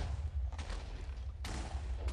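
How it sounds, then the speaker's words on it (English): Wither explosions in a modded Minecraft game, sounding as a couple of muffled blasts over a low rumble, with a sharper boom near the end. "all the remaining explosions are wither explosions, for the most part"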